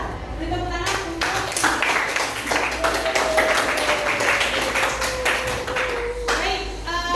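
Classroom clapping for student groups, a brisk burst of hand claps from a room of pupils, steady and fairly close, with a faint tone running underneath.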